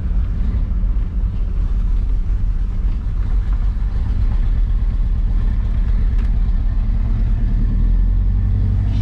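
A V8 car engine, just started after sitting and not firing on all eight cylinders, idles roughly with a steady, uneven low rumble that carries loud and close through the whole stretch, with no voices over it.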